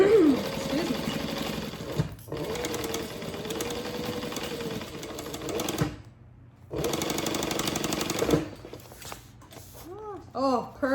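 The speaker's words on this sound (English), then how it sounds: "A little back stitching over that strap connector." Sewing machine back stitching over a backpack strap connector, runs of rapid mechanical stitching that stop and restart, with a person speaking briefly near the end.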